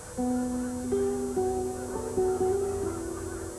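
Several migrating geese honk steadily in overlapping calls, fairly close, over a faint background hiss.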